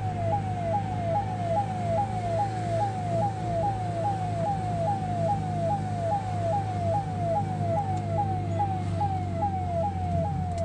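An ambulance siren wails in a fast, regular rising sweep over steady road and engine noise while the vehicle follows a car that will not give way on a busy road near Mangaluru.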